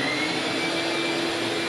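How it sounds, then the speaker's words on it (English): In a woodworking shop, a dust collector runs with a steady, loud whooshing roar and a constant high whine, unbroken for the brief stretch with no talking. "and the dust collector,"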